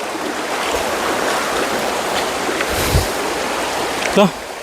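A forest stream swollen with floodwater after heavy overnight rain rushes past close by, a continuous loud churning hiss with a couple of short splashes and thumps.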